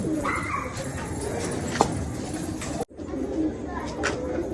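Male and female pigeons in a loft coo softly and repeatedly amid a dense, continuous background murmur, with a short dropout partway through.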